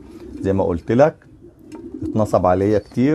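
Meat pigeons cooing in soft, repeated bursts, mixed in with someone speaking at close range.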